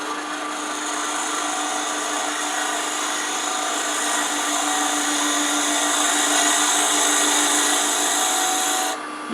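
A wood lathe spins steadily while turning a wooden rook-shaped pencil pot, a sustained tonal motor whine with a faint cutting hiss that holds even, rises slightly in pitch, then cuts off at the end, with no talking.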